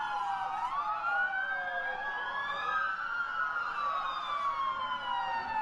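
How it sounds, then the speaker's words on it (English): Several police sirens wail at once, their overlapping rising and falling tones sweeping continuously and steadily loud, with no voices. "That's a lot of sirens"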